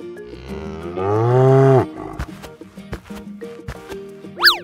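A cartoon cow lets out one loud, drawn-out moo close by, followed by shuffling, thumps and scattered noises, ending with a short rising squeak.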